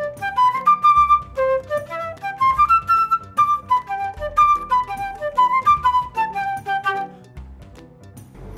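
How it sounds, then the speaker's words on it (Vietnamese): A Vietnamese bamboo flute (sáo) plays a flowing melody of clear, breathy notes, steady and prominent with no voices. "Dạ, thưa cô, đây có phải tiếng sáo không ạ?"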